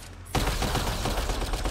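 Gunfire in Mass Effect Andromeda, a sudden loud onset of rapid automatic shots that continue as a dense, steady burst for over a second, with no talking.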